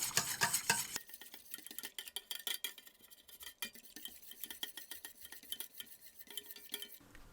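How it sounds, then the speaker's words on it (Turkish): Rapid metallic scraping and tapping of a whisk stirring a flour mixture inside a pot, quick irregular strokes, close up with no talking. "Tamamen eriyene kadar çırpalım"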